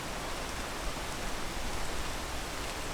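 Steady rain falls in the video game PEAK, a dense, even hiss of drops with no talking, holding at a constant moderate level throughout.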